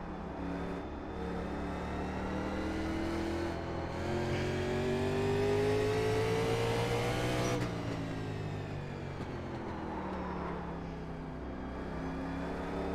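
A race car engine held in fourth gear in the iRacing simulation of the 1987 Winston Cup race at Martinsville, a steady droning whine that climbs in pitch, dips sharply around the middle, then builds again, with no talk.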